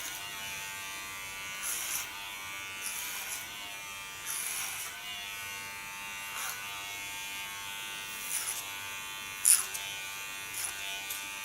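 Electric hair clipper trimming ultra-short hair at the neckline, a steady close buzz running throughout with brief swells as the blade passes over the head and comb.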